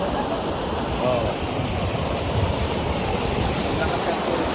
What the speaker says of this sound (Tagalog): Lakas ng tubig dito.